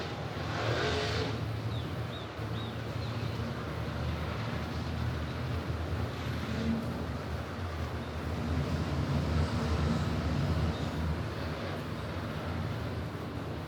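Race cars on a final salute lap at Arrowhead Speedway, heard as a distant, continuous engine roar rising and falling across the oval, with faint crowd ambience and no close talk.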